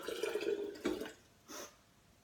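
Orange juice, 600 ml of it, is poured as the base of a homemade sports drink: a short, faint liquid pour and splash, followed by a couple of soft drips in a quiet room.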